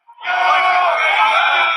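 A pro-Trump crowd shouting while fighting police lines on January 6, a dense sustained roar of many yelling voices close and loud, swelling in quickly and holding steady.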